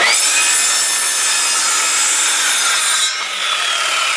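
A circular skill saw rips through a 2 by 4 with a loud, steady, close-up whine that holds for about three seconds, then shifts in tone briefly near the end of the cut.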